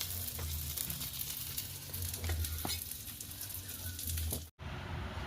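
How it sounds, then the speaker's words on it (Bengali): Prawn paturi wrapped in gourd leaves frying in a pan, a steady close sizzle with soft crackles and a few stirring knocks, broken by a brief dropout near the end. "পাঁচ সাত মিনিট ধরে এরকম পাতুরিগুলোকে সুন্দরভাবে ভেজে নেবেন"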